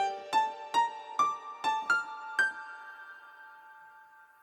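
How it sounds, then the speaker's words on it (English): Six plucked notes from a Yamaha XG synthesizer in a quick, uneven melody, each blooming into a long, bright, shimmering reverb tail that slowly fades. "So now the reverb sounds like this."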